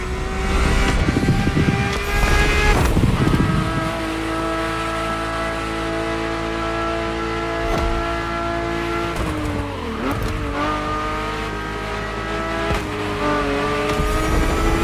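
A Ferrari F50's engine drones steadily in The Crew Motorfest racing game, opening with a rough burst and shifting revs partway through. It stays fairly loud and continuous, with no voices.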